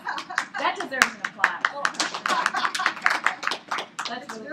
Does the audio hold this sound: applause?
yes